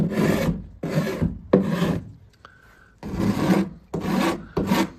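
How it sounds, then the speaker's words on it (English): A coarse hand rasp shaves cured epoxy on the wooden shell of a teardrop camper, heard as six rough, close rasping strokes with short pauses between them. "It's coarse, but it cuts through the epoxy and it's smoothing it down."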